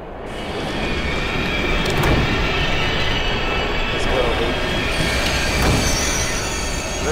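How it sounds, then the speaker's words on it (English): A train rumbles steadily in the VR horror game Here They Lie, a continuous loud rolling roar with faint metallic wheel squeal, voices in the game sounding over the top. "Let me get on this train."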